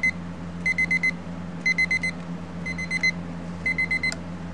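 Cheap novelty train clock sounding its alarm through a small built-in speaker: five evenly spaced bursts of rapid electronic beeping over a steady low hum, fairly close and clear, with no talking.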